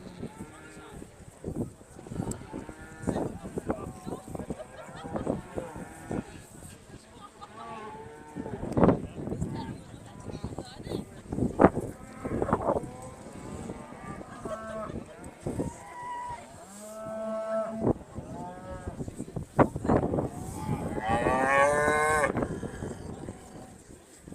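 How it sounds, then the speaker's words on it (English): Aberdeen Angus cattle walk round the show ring at the Balmoral Show, with frequent lowing and moos at varying distances, while a commentator speaks over the PA and the crowd murmurs. "These cattle will now make their way round."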